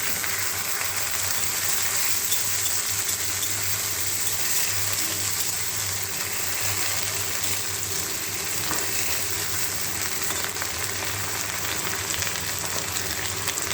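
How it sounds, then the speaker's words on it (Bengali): Green chilies and garlic fry in mustard oil for a bottle gourd leaf mash, giving a steady, even sizzle with a broad hiss that runs unbroken and close throughout, with no talk. "অল্প একটু সরিষার তেল দিয়ে নিব এগুলো ভাজার জন্য"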